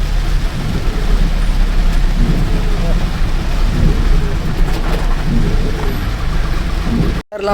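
Rain falls steadily on a car driving along a highway toward Hyderabad, a constant hiss over the low rumble of the road and engine, with someone speaking over it at times.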